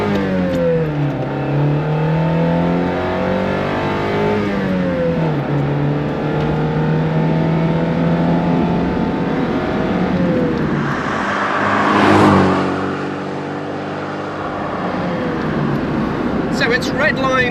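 A 1984 Alfa Romeo Giulietta with its standard-exhaust 2.0-litre twin cam engine accelerating on the road, revving through the gears in rising sweeps, loud and close from inside, with a voice talking over it.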